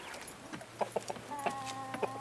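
Chickens clucking while pecking at food on a farm, several short soft clucks in an irregular scatter, close and fairly quiet over a low background hum.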